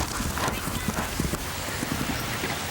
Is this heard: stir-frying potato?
no